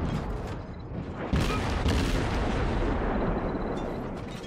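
Heavy naval guns of an American battleship fire in the World of Warships game, a dense rumbling roar with a sharp booming salvo partway through over continuous low engine and ocean noise, no talking.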